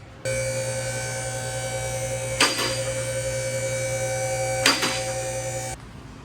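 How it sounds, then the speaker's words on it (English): A car lift raising a Honda-based build with an Action Clutch triple-disc custom flywheel, a steady electric motor hum and whine running for several seconds alone, with two brief clunks partway through before it stops. "Let's get this thing on the lift."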